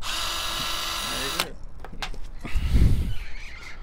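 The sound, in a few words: power drill drilling a bumper hole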